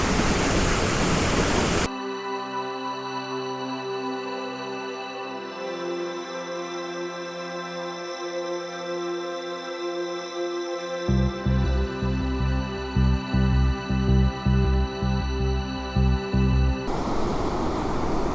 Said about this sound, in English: here we are at Gullfoss, another waterfall, but this is truly amazing, this one.